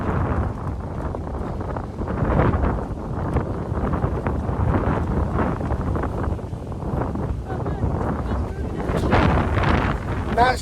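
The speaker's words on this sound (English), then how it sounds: "But it is very, very windy, as you can hear." Continuous gusty wind buffeting the microphone outdoors by a riverside, a loud low rumble that surges and swells throughout, with no clear voices.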